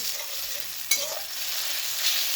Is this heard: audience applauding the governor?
no